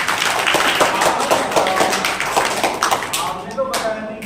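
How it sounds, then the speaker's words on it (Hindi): Children and adults clapping at a National Children's Day celebration, a dense burst of applause that thins out toward the end, with some voices mixed in. "तालियां"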